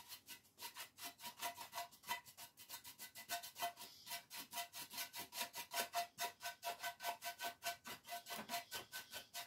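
Steady rapid back-and-forth rubbing strokes buff wax into a lamp during a makeover, a quiet, even rasping rhythm of about four to five strokes a second continuing alone throughout.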